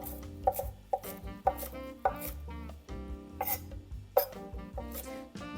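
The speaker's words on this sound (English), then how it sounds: "So I'm just gonna give it a rough chop." Knife roughly chopping organic cilantro on a board, a series of sharp, uneven thuds and taps heard close up, with a steady music bed underneath and no talking.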